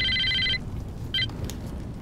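Cellphone ringing in the Saints Row 2 video game: a bright electronic ringtone warbles for about half a second, then gives a second short burst, over a low game background rumble.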